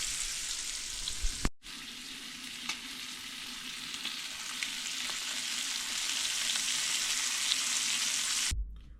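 Panfish fry in a pan aboard a kayak, giving a steady, dense sizzle that runs loud and close for most of the stretch, with a brief break near the start and the sizzle cutting off just before the end.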